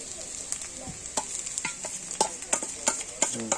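Egg frying in a pan for chow mein, a bright steady sizzle punctuated by repeated sharp spatula scrapes and clinks as it is stirred, close and moderately loud.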